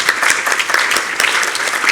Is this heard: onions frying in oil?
no